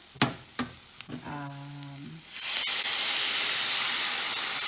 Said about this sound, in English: Now I'm gonna add my pasta sauce into my mixture.